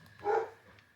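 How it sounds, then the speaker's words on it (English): A dog gives a single short bark, close by and fairly loud, rising out of a quiet room and fading over about a second, with no voices. "so that's my dog having a moment"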